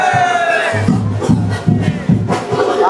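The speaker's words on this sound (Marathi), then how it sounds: "हा उत्साह, हा जल्लोष सर्व पाहायला मिळते" A dense crowd of villagers at a Gavdevi palanquin procession in Rabada Koliwada, Navi Mumbai, cheers and shouts loudly and close by, with rhythmic drumming thumping underneath.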